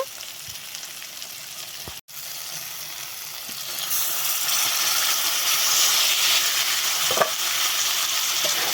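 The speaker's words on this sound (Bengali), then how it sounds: "এবার কচু লতিগুলোকে ভালোভাবে মশলার সাথে কষিয়ে নেব" Taro stolons being stir-fried with spices in a hot pan give a steady, close sizzle and hiss, with occasional stirring scrapes and a brief dip near the start, and it grows slightly louder midway with no talking.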